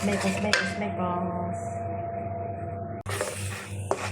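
A spoon stirs melted glutinous rice mixed with coconut milk in a pot, giving steady scraping and light metallic clinks against the pan, with faint voice sounds in the background.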